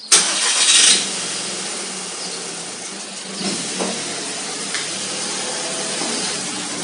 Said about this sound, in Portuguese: Agora vou pôr o carro cá dentro.